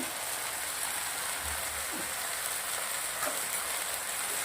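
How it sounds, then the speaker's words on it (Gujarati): Okra tipped into a pan of spicy masala for Indo-Chinese chili bhindi, frying with a dense, even sizzle like steady rain, punctuated by a few soft scraping stirs. "હવે આપણા જે ભીંડી કરી રાખી છે પેલી ભીંડી એ નાખી દેશું અંદર"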